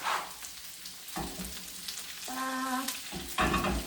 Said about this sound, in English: stir the carrot a little bit more